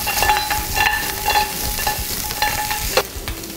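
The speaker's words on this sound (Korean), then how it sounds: "고기는 이렇게 센 불에서 색깔을 내주면" Pork ribs sear in a pan over high heat with a dense, steady sizzle, broken by repeated scraping clicks and clatters as the meat is stirred and turned, close and fairly loud.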